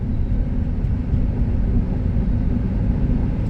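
A 2006 Honda Element with its small 2.4 engine driving up a hill, giving a steady, loud low drone and road rumble that holds constant throughout.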